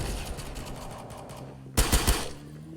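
Video game gunfire heard as a sustained rattle of automatic fire under a steady background, then three louder close bursts in quick succession near the end.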